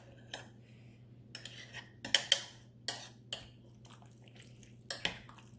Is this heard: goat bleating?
no